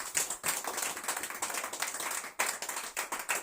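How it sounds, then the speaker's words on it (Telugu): A church congregation claps together during a pastor's sermon, a steady patter of many hands that carries on throughout with a brief dip partway. "గట్టిగా చప్పట్లు కొడదాం."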